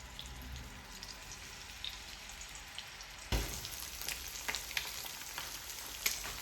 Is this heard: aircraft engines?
no